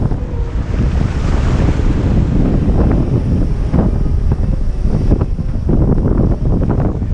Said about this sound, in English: how big these waves are?